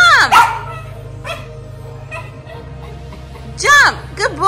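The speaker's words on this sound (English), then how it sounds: "Stop barking." A small Maltese dog gives sharp, high yapping barks close by, one burst at the start and a double burst near the end, with soft whimpers and quiet gaps between.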